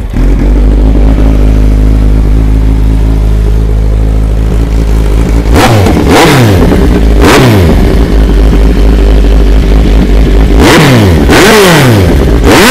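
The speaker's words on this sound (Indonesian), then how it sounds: "Mari kita cuba start tengok Kawasaki Z1000 Leovins exhaust," A 2011 Kawasaki Z1000 with a Leovince exhaust idles loudly and steadily, then rises in several sharp revs that fall back to idle, close up and very loud.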